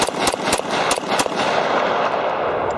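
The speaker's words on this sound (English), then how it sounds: "I'm just going to do like 10 rounds here from the side, 9 or 10 rounds, and show what the recoil looks like" A Glock 32 in .357 SIG fires Underwood 125-grain rounds, with sharp reports in a quick irregular string, several close together, each cracking loud and near over a steady noisy background that stays high after the last shot.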